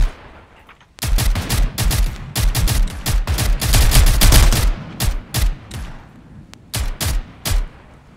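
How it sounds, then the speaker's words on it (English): Gunfire in the video game Zero Hour, with bursts of rapid automatic shots and single cracks, loud and close, clustered in uneven volleys separated by brief pauses. "These guys were shooting at me."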